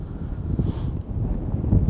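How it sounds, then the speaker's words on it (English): Low, steady wind buffets and rumbles across the microphone outdoors, a continuous gusty roar with no voices. "Bring your hat, it's always windy."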